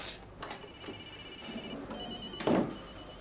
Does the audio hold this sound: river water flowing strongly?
no